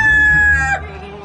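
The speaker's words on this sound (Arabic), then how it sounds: "ده ديك يعني ممكن ياكلنا احنا الاتنين" A rooster gives one loud, close crow that rings out and then cuts off, with a faint background murmur under it.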